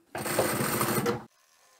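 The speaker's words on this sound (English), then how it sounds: "we are going to stitch straight across both of these drawn lines" A sewing machine stitches a straight seam across the card slots of a crossbody bag in one steady burst of rapid needle clatter for about a second, then stops abruptly.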